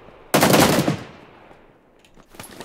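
A short, loud burst of automatic gunfire in PUBG Lite, fading into a decaying echo, then a couple of faint, distant shots.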